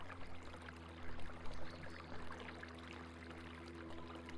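Water flowing in the video game Caligo, a steady low trickling and pouring wash with a constant hum underneath, quiet and continuous without talk.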